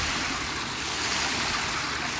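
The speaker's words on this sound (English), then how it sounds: "Hear all that water rushing over there?" Floodwater rushes steadily along the Murray River near Murray Bridge, a dense, even roar that fills the scene without pause and without anyone speaking.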